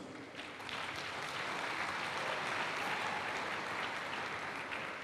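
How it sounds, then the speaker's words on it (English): An audience applauds university representatives at an event in Nigeria, a dense, even wash of clapping that swells slightly and holds steady, fairly quiet overall. "Please give them a round of applause."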